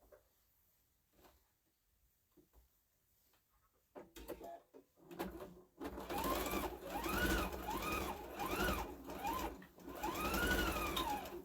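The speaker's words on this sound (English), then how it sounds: "So I'm going to sew it." A sewing machine runs a stitched line along a Santa placemat, starting after a quiet stretch with a few hesitant bursts, then whirring steadily and close, its pitch rising and falling in repeated arcs as speed changes.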